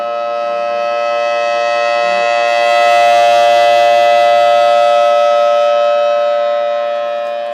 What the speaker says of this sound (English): So probably hearing the siren every hour an hour.